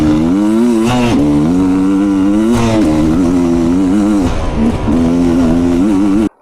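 A Stark Varg MX electric motocross bike whines under load as it is ridden, its rising and falling electric-motor pitch loud and close, surging with throttle changes across a few seconds.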